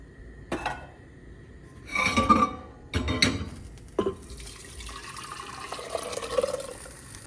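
Water is poured into a pressure cooker holding cooked lentils, jaggery and tamarind for homemade rasam, arriving in several short separate splashing pours with clinks of the pot between, then a softer trickle.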